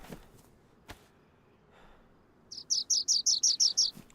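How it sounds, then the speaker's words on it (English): A small bird in the game DayZ chirps in a rapid run of about eight sharp, bright, evenly spaced tweets, loud and close, after a quiet stretch of low ambient background. "That bird is blistering my eardrum."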